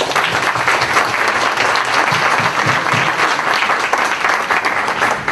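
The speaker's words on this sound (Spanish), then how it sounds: "Démosle una cordial bienvenida con un aplauso." Steady, dense applause from an audience welcoming a speaker at an academic climate-action event, loud and continuous with no talking over it.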